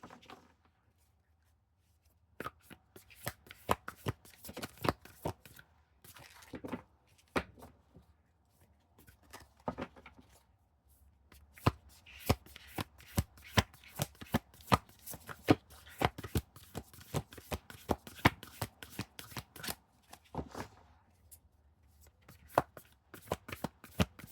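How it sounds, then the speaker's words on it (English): Oracle cards are shuffled close by in irregular bursts of crisp flicks and slaps, some sharper than others, with brief quiet gaps between rounds. "These cards are not exactly easy to shuffle."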